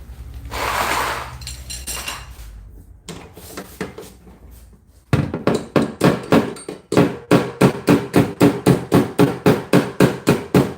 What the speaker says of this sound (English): That's a panel hammer